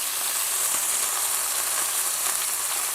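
A Camargue bull steak sizzles hard in a hot pan, a loud, even hiss with faint crackles throughout and no voices.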